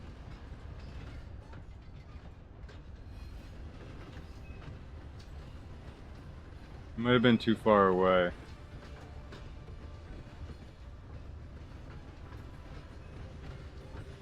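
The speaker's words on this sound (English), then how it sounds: "Look, I'm gonna stand right in front of the train." Train passing in a video game, a faint steady rumble and rattle running through the whole stretch, with a short burst of talk in the middle.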